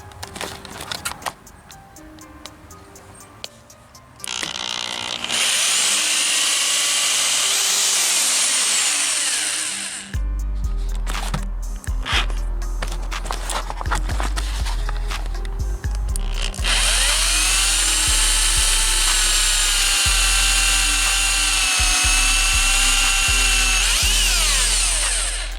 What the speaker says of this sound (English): I'm gonna drill me a hole through here and a hole through here